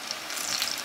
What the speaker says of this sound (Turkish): Öbür tarafta güzelce kızarması lazım.